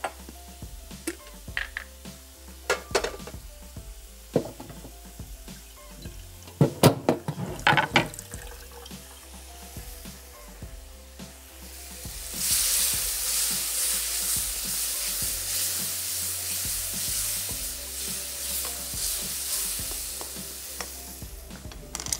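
Masala frying in a pan first crackles with scattered stirring clatter and spoon knocks, then water poured in sets off a loud, continuous hissing sizzle that carries on steadily to the end.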